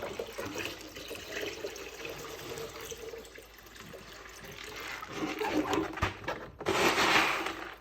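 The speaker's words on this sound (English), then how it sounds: "I'm gonna go ahead and take this, kind of pour all the water out." Water splashes and gurgles as it is poured out of an aquarium during a water change, growing louder and more turbulent toward the end.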